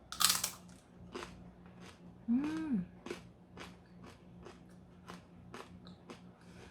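Crunchy oat nurungji, a scorched rice snack, is bitten and chewed in a rapid series of close, crisp crunches, with a brief hum from the eater and a louder rustle at the start.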